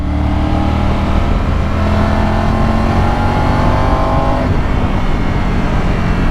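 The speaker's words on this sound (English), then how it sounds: "the engine and the exhaust has just got a nice roar to it" Triumph Tiger 900 GT Aragon Edition motorcycle from 2024, its engine and exhaust giving a steady, loud roar with a rising tone, up close and continuous throughout, no talking.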